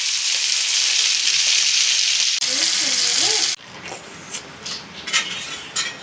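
Fish frying in a pan gives a loud, dense, steady sizzle for about three seconds, then cuts off abruptly. A voice briefly speaks over the end of the sizzle, and quieter kitchen clatter and faint talk follow.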